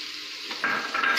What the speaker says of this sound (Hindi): फिर हल्के से 2 से 3 मिनट के लिए सिर्फ इनको फ्राई करना है